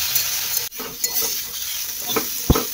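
Leafy greens frying in a pan for saag bhaji, stirred with a utensil: a steady close sizzle with scraping strokes and a sharp clack near the end, no voices.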